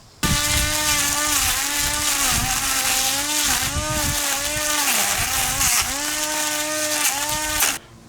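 A battery-powered grass trimmer whines steadily and loudly as it cuts through weeds, its pitch wavering slightly as the line bites into growth, running continuously from start to nearly the end before cutting off.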